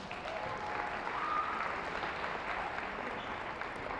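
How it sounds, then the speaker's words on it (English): Indoor crowd at a women's college basketball game between Wheaton College and Illinois Wesleyan applauds all-conference players, a steady broad wash of clapping from many hands lasting several seconds, fairly distant. "Let's give all 4 of them a round of applause."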